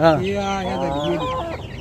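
A Silkie hen clucks close by in a steady, drawn-out run of throaty calls, loud and clear with no talk over it.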